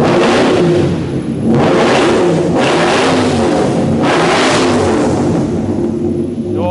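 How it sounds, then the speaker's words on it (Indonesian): A BMW E34 530i with the M60B32 V8 revs hard in loud repeated bursts, deep and rumbling, heard up close with the engine rising and falling several times. "Terus karena ini V8 suaranya gila banget, guys."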